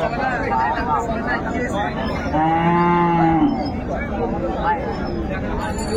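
A cow lows loudly once, a long drawn moo near the middle, amid busy livestock market babble at Ranigonj haat in Dinajpur where dairy cows and calves are sold; voices talk throughout.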